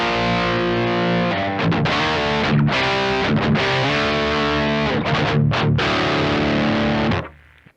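Distorted electric guitar through a Synergy Bogner Uberschall amp module with a crunchy tone, strummed chords and short riffs with brief stops, ending in a fading ring.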